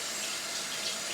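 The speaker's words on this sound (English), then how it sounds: "I'm just going to wash my hands." A kitchen tap runs with a steady, close rushing of water while hands are washed during soup making, brief and without talk.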